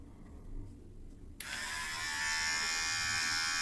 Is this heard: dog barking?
no